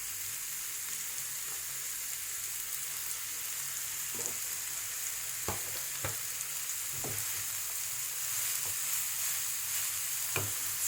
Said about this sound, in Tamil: இப்போ நமக்கு கட் பண்ணி வச்சிருக்கிற அந்த கேபேஜை போடுறேன்